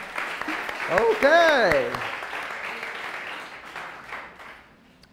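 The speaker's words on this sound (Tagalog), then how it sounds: "The best po muna palakpak para kay Jesus." A church congregation applauds in a sustained wash of clapping that fades gradually, while a voice speaks over the start.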